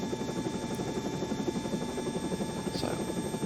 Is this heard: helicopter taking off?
yes